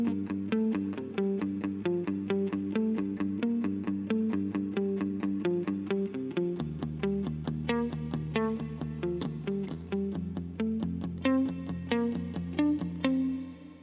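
Distorted electric guitar with effects plays a riff, a steady chugging palm-muted pattern with ringing accented chords, loud and alone for about fourteen seconds.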